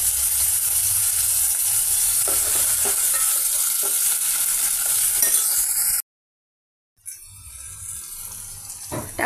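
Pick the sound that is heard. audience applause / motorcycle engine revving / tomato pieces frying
tomato pieces frying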